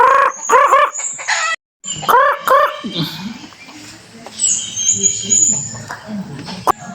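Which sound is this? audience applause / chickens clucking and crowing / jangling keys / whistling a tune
chickens clucking and crowing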